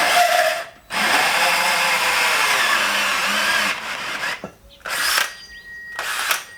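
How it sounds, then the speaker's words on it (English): A cordless power drill whirs in several bursts, a long run followed by shorter starts and stops, struggling to remove a bushing collar on an 80-series Landcruiser, close and loud with no talking. "the cordless drill doesn't quite have enough juice for that"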